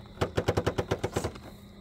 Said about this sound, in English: What was that noise? Rubbing the body a little.